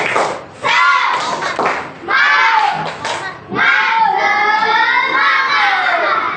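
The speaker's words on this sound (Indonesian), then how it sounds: "coba tepuk semangat" A class of students in an Islamic religious education lesson performs a rhythmic spirit clap, chanting loudly together in short bursts punctuated by group claps and thumps, with brief pauses between phrases.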